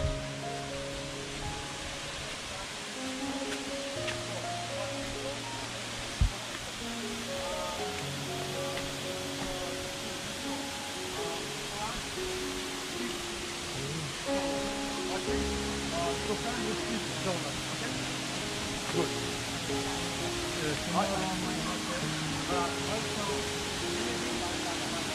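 A Bali waterfall roars as a steady, broadband wash of falling water, continuous and close, with faint tonal sounds from the surroundings mixed in and no talking.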